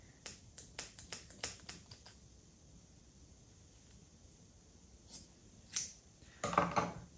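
Scissors cut away craft stitching with a quick run of sharp, crisp snips close by, then a pause and a few more snips near the end, all quiet and without speech.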